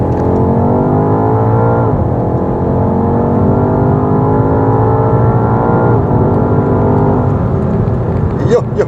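A BMW X5M Competition engine revs hard and climbs under acceleration, a loud sustained roar inside the car with rising pitch, a brief gear-change dip, then pulling up again.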